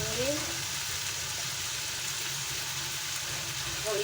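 Okra and potato frying in a pan for a spiced aloo bhindi dish while tomatoes go in, a steady close sizzle with soft stirring and faint brief scrapes, no voice over it.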